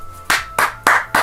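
A person claps their hands four times in an even, steady rhythm, each clap sharp and close, with no talking.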